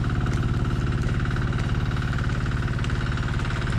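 A machine engine runs steadily at idle in a vegetable garden growing string beans and bitter gourd, a close, continuous rhythmic chugging that holds level throughout with no talking.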